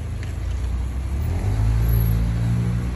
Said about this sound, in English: Look how much traffic they're causing.